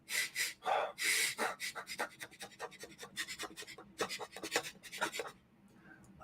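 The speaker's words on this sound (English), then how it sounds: "The first is experience what most humans call fast or dragon breathing." Rapid, forceful breathing of a fast 'dragon' breathing exercise: a quick series of sharp, close, loud huffs and gasps in a steady rhythm, then a brief quieter pause near the end, with no talking.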